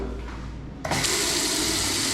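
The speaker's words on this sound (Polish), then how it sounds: "Woda długo leci, a nie krótko." Water gushes steadily from a tap in a German shower room, starting abruptly and then running loud and continuous with a broad hiss.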